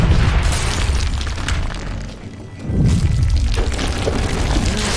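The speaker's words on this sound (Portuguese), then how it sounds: "Tá desmoronando." A structure collapses amid an explosion in the video game Call of Juarez: loud rumbling booms and shattering debris, a brief lull, then another heavy crash that rolls on.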